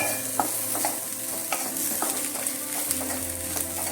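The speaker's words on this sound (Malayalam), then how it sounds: "നന്നായിട്ടൊന്ന് വഴലണ്ട, എന്നാലും അതിൻ്റെ പച്ചമണമൊക്കെ ഒന്ന് മാറുന്ന പോലെ നമുക്കൊന്ന് വഴറ്റാം" Ingredients for a prawn roast are sautéed in a pan, with a steady sizzle and frying hiss and the repeated scrape and clink of a spatula stirring at close range.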